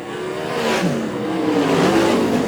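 Winged race cars firing down the front straight at Greenstone Park during a heat race, engines rising in a moderately loud, slightly distant roar over about two seconds.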